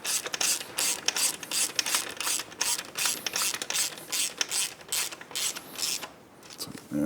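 A ratchet with a 16mm socket tightening a header bolt on a 2024 Triumph motorcycle, giving a fast run of close, crisp clicking strokes with brief pauses between sweeps.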